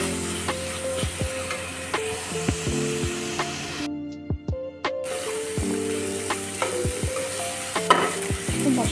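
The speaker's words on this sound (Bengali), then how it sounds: "মশলা কষানো হচ্ছে" Spices for an egg curry are stirred and fried in a pan, giving a loud close sizzle with repeated rhythmic spatula scrapes and knocks. The sizzle drops out for about a second midway, and no voices are heard.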